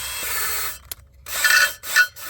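An engine valve chattering against its seat while being lapped with a drill, rough rasping bursts broken by short gaps and a sharp tick, close and fairly loud with no voices.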